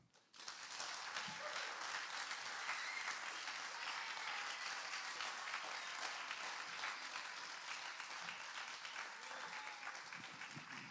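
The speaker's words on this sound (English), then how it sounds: "Give him another round of applause" Sustained audience applause after a poetry reading at a recovery-themed spoken word event, a steady dense wash of many hands clapping that fills the room throughout, fading in at the start.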